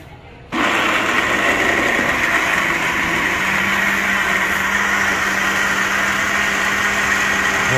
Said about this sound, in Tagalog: Okay, so gilingin na natin guys. Okay, gilingin mo na.